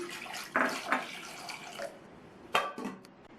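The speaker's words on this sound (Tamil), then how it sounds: "இந்த குக்கரில் 150 கிராம் உருளைக்கிழங்கை சேர்த்துட்டு முங்குற அளவுக்கு தண்ணி சேர்த்து மூடி வச்சிடலாம்." Water poured into a pressure cooker holding 150 grams of potatoes in a home kitchen, heard as short splashing bursts with pauses in between and no talk.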